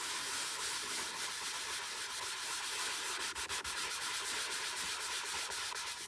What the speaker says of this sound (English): I'm going to sand it just a tiny bit.